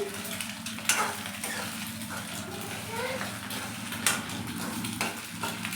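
An egg fries in a pan while being stirred, giving a steady sizzle with scraping and clinks of a utensil against the pan, as a person talks quietly over it.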